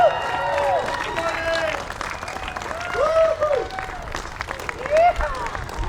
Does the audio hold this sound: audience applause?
yes